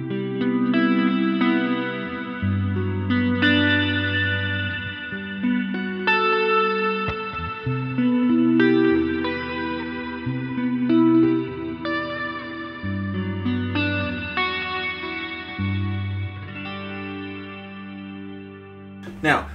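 Electric guitar played through a Jazz Chorus amp model with reverb adds lush, shimmering sustained chords and ringing single notes, loud and close, with no voices over the playing.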